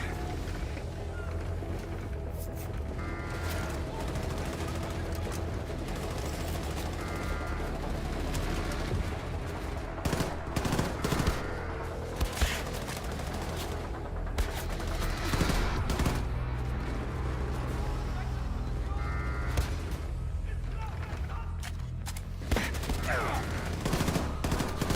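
Rapid gunfire from headshot kills in the Wolfenstein II shooter video game, with repeated sharp shots and short bursts over a steady game soundscape, running throughout.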